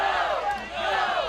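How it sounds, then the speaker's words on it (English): A packed wrestling crowd at an SICW All-Star Wrestling show hollers and boos in a dense, continuous roar that swells and dips slightly throughout. "they're hollering at him, they're booing him"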